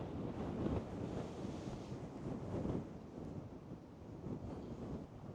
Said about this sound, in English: Wind, rain.